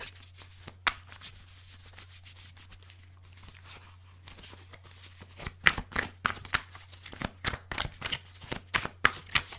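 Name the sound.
shuffling tarot cards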